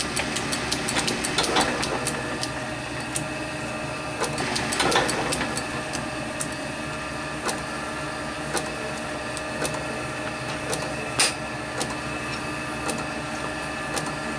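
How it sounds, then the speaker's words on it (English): A metal lathe runs with a steady tonal hum while a hand graver cuts a chamfer on a small scrap-metal part, adding a few brief scraping bursts over the constant machine drone. "I'm going to be lazy and just get the graver out. Put a bit of a chamfer on there."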